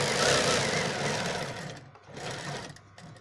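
A sewing machine stitches a side pocket onto a kurti, running in a steady continuous whir, then briefly slowing and pausing before starting again for a shorter run, close and fairly loud.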